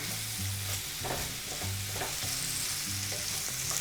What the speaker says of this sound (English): We're going to saute these for anywhere from 3 to 5 minutes